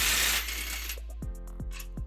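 A ratchet with a 19mm socket clicks in a few sharp, close, evenly spaced strokes on the bumper bracket bolts of a 2005 Nissan Xterra, following a brief louder rustle.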